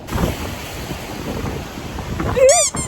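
Wind and surf at an overcast beach in Alibagh, a steady broad rush of waves under buffeting wind, with a short rising whistle-like tone near the end.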